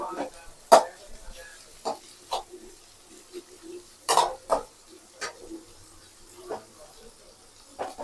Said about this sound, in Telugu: ఎర్రగడ్డలు బాగా ఫ్రై చేసుకోవాలి